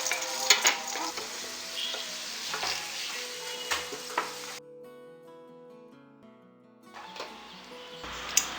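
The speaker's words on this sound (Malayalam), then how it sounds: "ഇതിലേക്ക് കുറച്ച് മുന്തിരിയും കൂടെ ചേർത്ത് ഫ്രൈ ചെയ്ത് പോരാം." Cashews and raisins sizzle and crackle steadily in oil with occasional stirring clinks, then the sound quiets briefly before the frying resumes.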